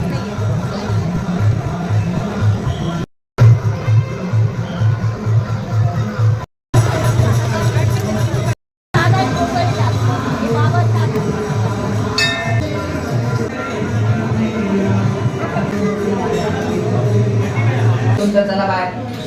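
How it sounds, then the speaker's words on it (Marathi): A large crowd packs a long queue for darshan at a temple on New Year, filling the air with continuous babble, chatter and occasional metallic clinks, while a nearby voice talks over it; brief dropouts break the sound. "गर्दी अजून कमी झालेलीच नाही आहे"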